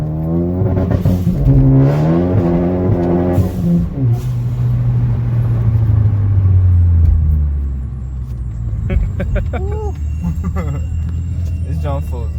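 A Ford Focus ST with a new intercooler rumbles and builds engine revs, loud and close, heard alongside talking from inside the car.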